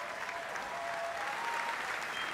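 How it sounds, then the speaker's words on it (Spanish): Audience applause fills the London Palladium at a football awards ceremony, a dense, steady wash of clapping from a large crowd that carries through the whole short stretch. "Otra vez que se llevan el aplauso del London Palladium."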